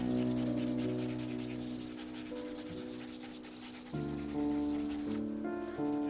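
Charcoal rubbed and blended across paper with the fingers while drawing a portrait: a soft, steady, close scraping that runs continuously beneath background music.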